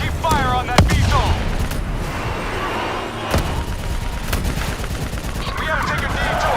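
Call of Duty Black Ops 3 combat gunfire, with loud sharp shots and bursts over a dense rumbling battle din, plus a pitched whine early on.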